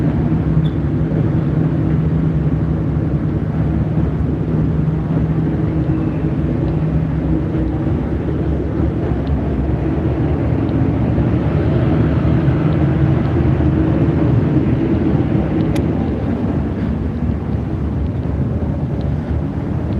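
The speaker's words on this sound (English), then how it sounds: "So they're definitely windy on those balconies, so make sure you keep everything tied down." Strong wind buffets the microphone on a cruise ship balcony of Adventure of the Seas at sea, a steady loud roar with low rumble lasting throughout, no voices.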